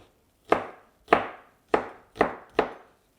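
Garlic cloves, crushed and then roughly chopped with a knife on a board, five sharp evenly spaced chops about half a second apart, close and crisp, each with a brief woody knock and no voices.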